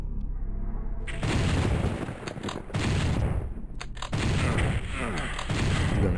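Weapons firing in the video game Doom 64, heavy booming blasts in long dense bursts separated by short pauses, loud and close, with no clear talk during the shots.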